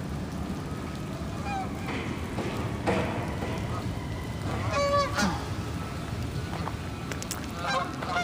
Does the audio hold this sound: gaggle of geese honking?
yes